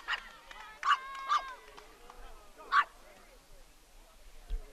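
A small black dog barks a few times at a 12U youth softball championship game, the sharp yaps fairly near and spaced out over a quiet ballfield background.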